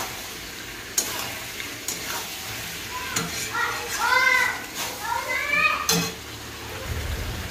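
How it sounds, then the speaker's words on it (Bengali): Fried potato and chicken are sautéed in a pan with a steady sizzle and sharp spatula scrapes, while a voice chatters nearby over the cooking. "এর মধ্যে এবার আমি দিয়ে দিলাম ভেজে রাখা আলুটা, দিয়ে আমি আর একটু ভালোভাবে কষিয়ে নেব।"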